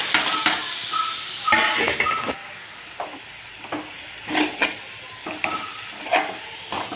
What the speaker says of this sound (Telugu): ముందుగా కట్ చేసి పెట్టుకున్న టమాటా కూడా వేసేసామండి. బాగా వేగుతున్నాయి కదండి